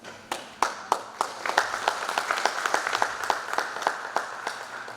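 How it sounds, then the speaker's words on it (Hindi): Audience at an event welcoming a guest on stage with applause, starting as a few distinct loud claps and quickly filling into rapid, overlapping clapping from many hands. "आपकी तालियों के बीच पधारें"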